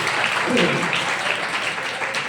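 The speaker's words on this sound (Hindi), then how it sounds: "ताली तो बजा दो" A crowd claps at a religious gathering with a guru, the applause a continuous, even patter held at moderate loudness throughout, with a voice faintly present underneath.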